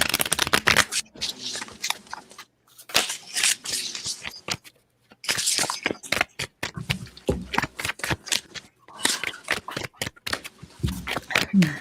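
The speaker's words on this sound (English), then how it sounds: "I'm just trying to shuffle." Tarot cards are shuffled by hand in rapid, repeated riffles and slaps, close and clear, running in bursts with brief gaps while a person talks in between.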